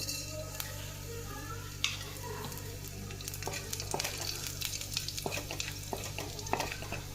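Chopped dry red chilli and black cumin sizzle in hot oil in a home kitchen pan for a garlicky amaranth-greens dish, with a steady frying hiss and scattered close clinks and scrapes of a stirring spoon.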